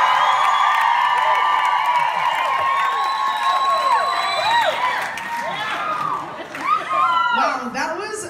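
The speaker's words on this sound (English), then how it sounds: "can we get like a female power like cheer?" A crowd at a film premiere in Portland cheers and whoops loudly, many high voices shouting together in a sustained burst that thins toward the end.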